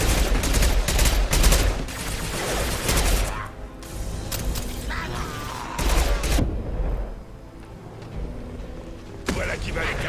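Heavy-weapon gunfire in the sci-fi shooter Mass Effect 2, loud bursts of rapid shots and booming blasts with mechanical clanks, over game music with voices speaking.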